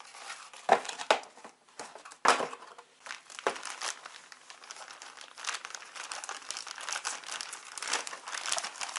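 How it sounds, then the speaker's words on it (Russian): Thin plastic of a cut-open anti-static bag crinkles and rustles as it is handled around a computer motherboard, with sharp crackling bursts early on, then steady close-up crinkling. "Антистатический пакет разрезанный, то есть"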